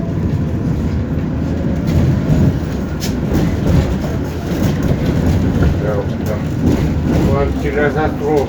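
Tram number 7 rolls along its rails, a loud, steady rumble with clattering wheel noise that holds throughout from inside the car, with voices murmuring underneath.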